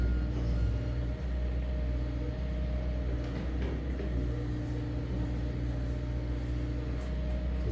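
A small BMW slot car races a time-trial lap on a track, its tiny electric motor giving a low continuous whirring rumble at moderate, steady loudness with no talking.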